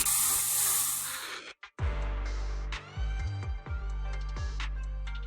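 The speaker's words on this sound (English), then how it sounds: "Here, have a taste of this special Bangboo spray" A loud, broad hiss of Bangboo spray in the video game Zenless Zone Zero lasts about a second and a half, then cuts to silence. Tonal game sounds with low, punchy hits follow.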